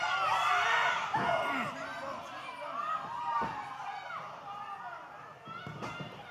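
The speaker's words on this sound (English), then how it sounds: "The crowd now chanting, trying to get Jay back into this thing." A crowd at a live wrestling event chants and shouts in the arena, a loud, lively mass of voices that fades slightly over a few seconds, with a commentator speaking over it.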